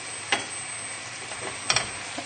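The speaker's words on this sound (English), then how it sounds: "And so we'll just stir the milk in" A spoon stirring milk into a salmon tagliatelle sauce over low heat, a soft steady sizzle with a few light scrapes and taps of the spoon against the pan, close and continuous without talk.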